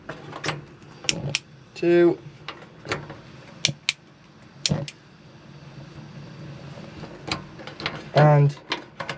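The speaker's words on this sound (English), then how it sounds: "you've got three gas rings, which you will need a match or a lighter to light these" Gas rings on a three-burner hob in a Chausson Flash 03 campervan are lit with a lighter, making sharp, scattered clicks and brief ticking bursts close by, heard between a man's spoken instructions.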